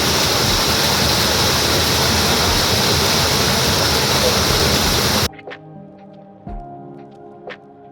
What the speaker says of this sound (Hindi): ये देखिए दोस्तों कितना ज्यादा पानी है आज इस रिवर में।